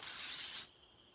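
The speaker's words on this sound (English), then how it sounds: "I'm going to spray it with some penetrating oil" Penetrating oil hisses from a spray can onto scrap metal in a workshop, a single loud burst of about half a second that cuts off abruptly, leaving quiet room tone.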